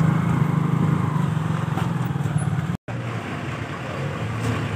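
Motorcycles pass on a narrow road along the Butwal to Galyang route, giving a continuous, fairly loud engine drone that holds steady with a very brief break, and no talking.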